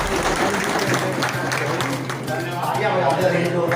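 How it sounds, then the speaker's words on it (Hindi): Loud, steady audience applause fills a Hindi-language press gathering honouring journalists, a dense continuous patter of many hands with a voice speaking over it. "जोरदार तालियां बजाइए।"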